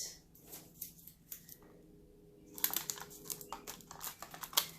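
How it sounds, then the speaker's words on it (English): Paper being folded down and taped while preparing a shaker instrument, close crinkling and crisp rustles, a quiet pause, then a denser run of crackling, tape tearing and pressing sounds. "I'm just going to keep folding this down and taping it."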